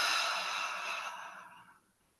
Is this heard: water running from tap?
no